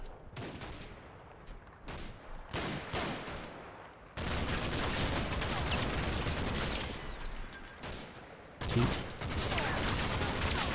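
Battlefield gunfire in the WWII game Combat Mission: Battle for Normandy, scattered sharp shots at first, then a long dense roar of sustained machine-gun and rifle fire with a louder burst near the end.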